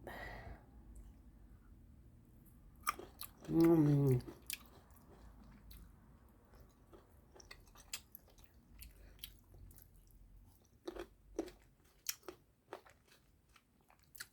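Crunchy bites of a spicy Thai yam-style drinking snack, with sharp crunches and wet chewing spread through a quiet stretch and one brief louder voice-like burst.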